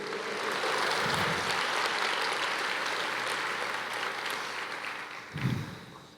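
A church congregation applauds in a worship service, a broad steady wash of many hands clapping that carries on for several seconds, with a brief low voice near the end.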